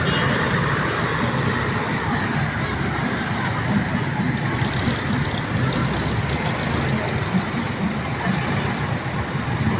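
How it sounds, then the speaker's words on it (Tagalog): Slow rush-hour road traffic in Castillejos, cars, trucks and buses rumbling past in a steady close wash of engine and tyre noise with faint background chatter. "Mabagal lang daloy ng mga sasakyan."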